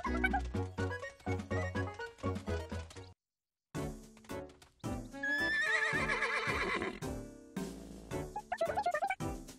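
Horse neighing in the video game Miitopia, repeated loud whinnies mixed with clip-clop hooves and game music, with a brief silent gap partway through.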